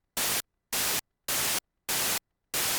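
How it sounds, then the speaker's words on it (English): Five evenly spaced bursts of harsh hissing white noise from a synthesizer noise oscillator in Synapse Audio The Legend, a MiniMoog emulation, each about a quarter second long, switching on and off cleanly with silence between. "you can have just noise"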